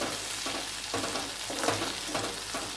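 Tamarind and asafoetida frying in a pan for brinjal chutney, stirred with a spoon: a soft, steady sizzle with regular scraping strokes about every half second, close and fairly quiet, no voices.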